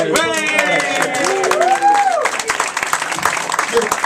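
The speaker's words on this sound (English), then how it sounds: "Round of applause for Eli." Comedy club audience clapping and cheering for a performer named Eli, with whoops and shouting voices rising over the clapping early on, then scattered claps continuing after the voices fade.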